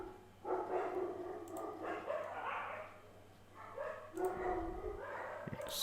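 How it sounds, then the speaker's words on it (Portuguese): Dogs fighting outside, heard at a distance as repeated bursts of barking and yipping with some whimpering, in several clusters over a low background hum. "Os cachorros se comendo lá fora."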